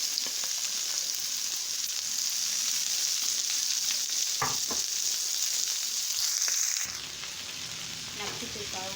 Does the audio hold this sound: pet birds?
no